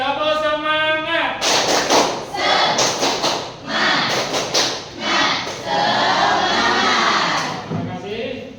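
A classroom of students claps the rhythmic tepuk semangat chant, sharp bursts of hand claps in a repeating pattern mixed with group voices chanting along, loud and close.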